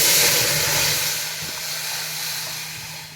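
Hot tempering is poured into pumpkin rasam and sets off a broad, close steamy hiss that is loudest at first and then eases slightly while staying steady, with no talking.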